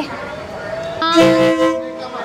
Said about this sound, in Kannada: ಟ್ರೈನ್ ಬಂತು, ಟ್ರೈನು ನೋಡ್ರಿ, ಎಲ್ಲ ಮುಚ್ಚಿಬಿಟ್ಟಿದ್ದಾರೆ ಮಾರ್ಕೆಟ್ನ